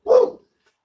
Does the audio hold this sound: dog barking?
yes